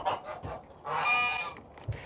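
Geese on a farm honk several times nearby, with short calls followed by a longer, louder honk in the middle of the clip.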